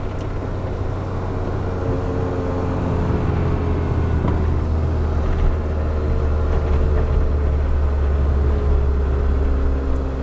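A turbocharged car engine pulls steadily through the gears, a continuous loud low drone and rumble that holds close and even for the whole stretch, with no talking.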